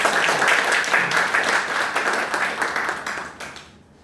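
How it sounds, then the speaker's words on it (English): Audience applause at a Toastmasters club meeting, a dense steady clatter of many hands that holds for about three and a half seconds before thinning and fading out. "Yes, please give a huge round of applause."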